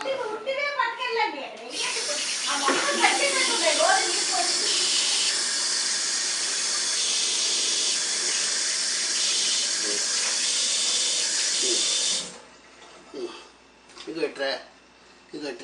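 During a child's bath, water poured from a mug rushes in a long, loud, steady hiss for about ten seconds, while voices talk before, during and after the pour.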